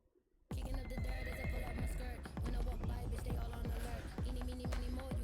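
A horse neighs loudly and steadily with a rhythmic clip-clop of hooves throughout, starting abruptly after a brief silent moment.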